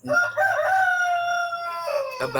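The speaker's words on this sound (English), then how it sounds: "It's about roosters." A rooster crows once in a long, drawn-out call, loud and close, fading into a short burst of noise at the end.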